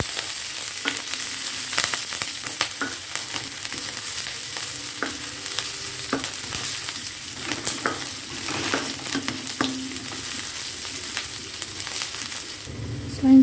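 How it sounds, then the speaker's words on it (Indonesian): Tilapia with spices sautéing in a pan until crisp, a steady close sizzle with scattered stirring clicks and scrapes throughout, no voices. "Kita tumis sampai dia garing dan bau wangi."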